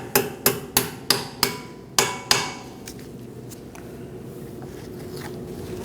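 Seven sharp metallic hammer taps ring out in an even rhythm during front brake replacement on a 2013-2019 Cadillac ATS, followed by quieter faint tool clicks, close and clear.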